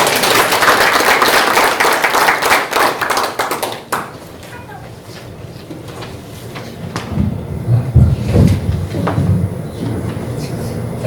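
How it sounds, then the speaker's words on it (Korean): An audience applauds at a Korean War POW and MIA recognition day ceremony in Geumsan. Loud, dense clapping fills the first four seconds, then fades into quieter room noise with low murmurs and shuffling. "박수 좀 주시기 바랍니다."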